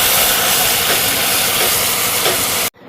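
Masala for stuffed aloo dum sizzles in hot oil as it is fried down, a loud continuous hissing crackle that cuts off abruptly at the end.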